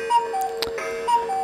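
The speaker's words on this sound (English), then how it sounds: "And there goes the timer." A countdown timer in the Super Hero Math video game ticks steadily at an even pace, and light electronic tones play alongside it.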